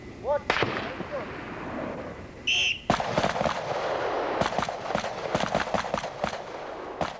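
Rifles fire at a military shooting range in a historical account of the 6th Gurkha Rifles, heard as a string of sharp reports, some single and some in quick clusters, over a steady background hiss.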